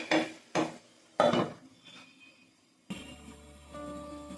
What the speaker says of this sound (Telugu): నేనైతే ఇప్పుడు మూత పెట్టేస్తున్నాను